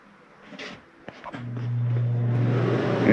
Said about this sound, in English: There's your AC running.